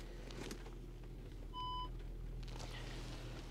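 A single short reversing beep sounds from an Audi A7 as the car backs up, a clear electronic tone over the steady low idle rumble of the engine.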